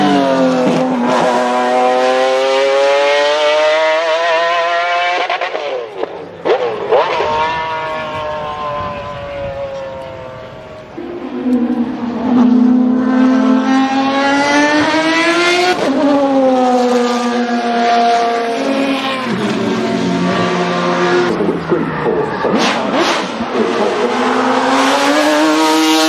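A BMW M1 supercar's high-revving engine screams through repeated climbs in pitch, dropping between pulls, loud and continuous with no voices.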